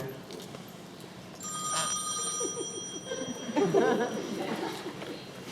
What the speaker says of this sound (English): You manage to be happy for 5 seconds until something starts ringing.